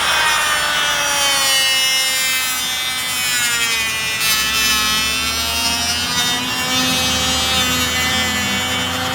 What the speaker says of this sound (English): mark up where I wanna cut, get my Dremel